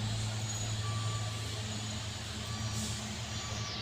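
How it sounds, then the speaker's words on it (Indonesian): A truck engine labours steadily on the steep Kedabuan uphill road, a continuous low rumble with a faint high whine above it and no voices. "ini ada truk-truk yang akan melaju"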